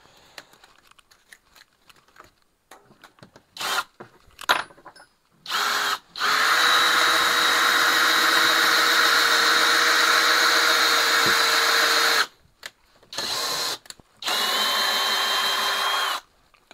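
Parkside Performance 12V drill driver whining loudly in several bursts at different speeds, with a short stretch of clicks and handling noise before it, then long sustained runs separated by brief pauses.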